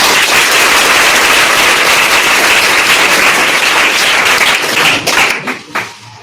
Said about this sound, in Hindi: आप लोग जरूर जम करके ताली बजा के स्वागत करें